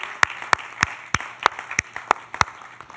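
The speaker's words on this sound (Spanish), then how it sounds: "Vamos a dar un aplauso al Señor." A church congregation claps together in a steady, even rhythm of about three claps per second, sharp and close, with no voices over it.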